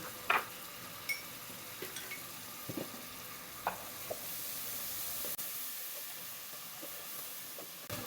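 Beef keema kofta curry with yogurt is stirred and sautéed in a pan: a soft continuous sizzle and hiss with occasional spoon clinks and scrapes, close but fairly quiet, with no talking.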